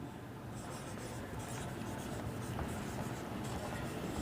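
Continuous scratchy rubbing of writing on a board during a lesson, faint and steady, without clear breaks.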